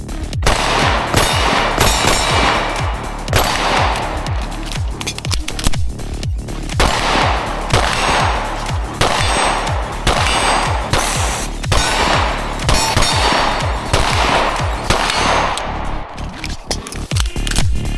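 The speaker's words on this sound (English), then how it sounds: "Taking some random shots here." Rapid pistol fire from a Staccato C2 at about 8 yards on an outdoor range, loud sharp shots in quick strings with short pauses, close and continuous throughout.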